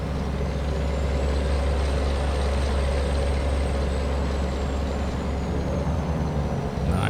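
A Peterbilt 388 wrecker rolls past a dump truck in American Truck Simulator, its loud steady engine drone and road rumble filling the scene with a faint rising whine, no voices over it.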